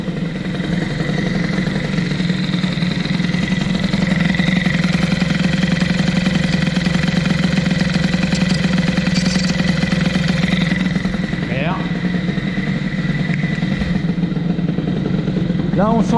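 A Fox Origine motorcycle engine fitted with a Boost cylinder head idles low and steady, a continuous mid-pitched engine hum heard up close without pause.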